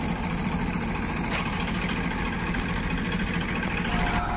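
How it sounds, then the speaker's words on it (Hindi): Ford 3600 tractor labouring in a wet field to haul a loaded sugarcane trolley, a continuous low heavy engine drone with steady throb, close and constant throughout. "और फिर से ट्रैक्टर जोर लगा रहे हैं, और ये बुगी चल पड़ी है"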